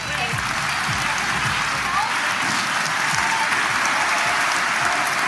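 An audience at a children's fancy dress performance on a school annual day claps steadily, a loud, dense wash of applause lasting throughout.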